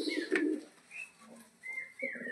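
Imported hobby booted pigeons on a loft farm give soft, low cooing calls in short separate bursts, fairly close and quiet, with small chirpy sounds between them.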